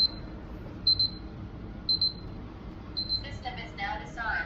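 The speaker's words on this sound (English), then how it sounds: "Hold up, I gotta shut off the alarm." A home security alarm keypad beeping in a room, four evenly spaced high electronic beeps followed by a quicker cluster of tones as it is shut off, with a voice talking underneath.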